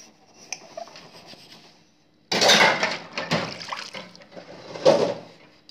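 Dishes being washed by hand with running water, a quiet trickle at first, then louder scrubbing, clattering and splashing as items are rubbed and rinsed close by.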